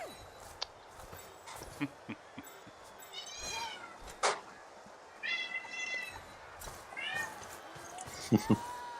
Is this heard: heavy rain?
no